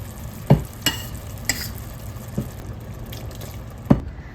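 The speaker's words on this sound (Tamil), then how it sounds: "இப்போ நம்ம சுண்டல்லாம் உள்ளே ஆட் பண்ணிடலாம்." Boiled chickpeas for sundal being stirred into a masala frying in oil, with a soft continuous sizzle and a few sharp scraping stirs, close and unaccompanied by talk.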